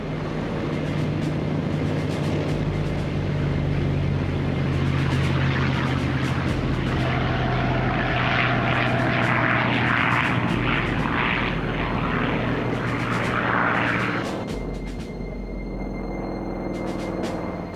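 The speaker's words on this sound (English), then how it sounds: "the first wave of Japanese aircraft took off" Japanese propeller aircraft engines drone loudly and steadily as planes take off, a sustained heavy roar with a rising whine midway, then easing slightly toward the end, no speech.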